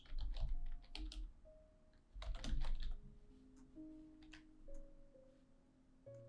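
Quiet, rapid clatter of a computer keyboard as code is typed, with bursts of keystrokes and short pauses, close and steady against a faint hum.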